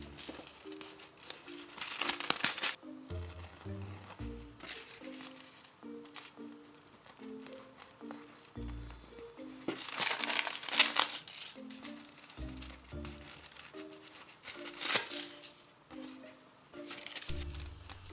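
Metallic foil being peeled from a pressed craft sheet for a Little Mermaid foil art activity, giving repeated close crinkling and tearing rasps in short bursts over a soft background melody.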